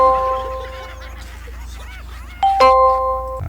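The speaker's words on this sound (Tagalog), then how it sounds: "May nagdo-doorbell, no?" A two-tone electronic doorbell chimes in a home, a first ding followed shortly by a louder repeated ding-dong over a low background hum, clear and close.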